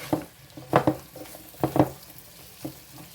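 Onions for an onion casserole stirred in a pan, a few distinct spoon scrapes in small bursts over a soft sizzle, close and clear with no talking.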